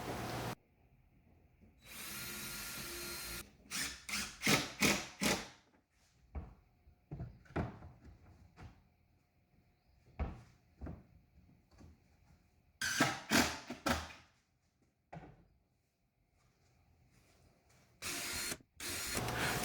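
Bursts of power drilling and screw driving, pre-drilling boards and driving 1 1/4 inch screws, come in short whirring spurts separated by quiet pauses, with light knocks and handling noises between them.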